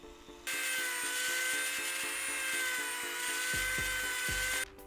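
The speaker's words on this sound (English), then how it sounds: "I got to grind this down just a little bit to recess the magnet" A rotary tool grinds into foam armor to recess a magnet, a steady high-pitched whine lasting about four seconds over faint rhythmic tapping, starting and stopping abruptly.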